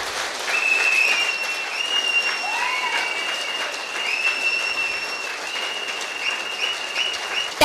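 An audience claps steadily for several seconds in a hall, with whistle-like tones ringing over the applause.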